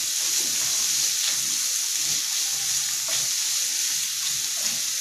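Onion sautéing in oil for pasta carbonara, giving a continuous close hiss and sizzle with faint scraping and stirring sounds, steady in level throughout.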